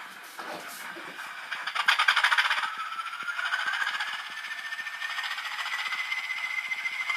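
Cold start of a Hornby Class 20 model locomotive's sound system, with a rising hiss and whine that settles into a steady diesel idle drone, heard alone at moderate volume.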